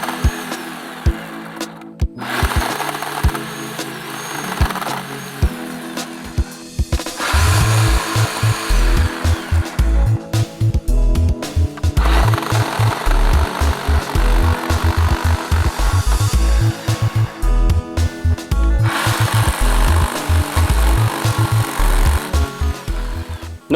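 Chainsaw trimming the timber of a wooden garden arch on a farm, loud bursts of cutting with revving and brief pauses between cuts, close and without speech.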